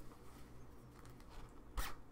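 A zipper on a quilted fabric bag is pulled open in one quick, loud rasp near the end, after a stretch of low handling noise.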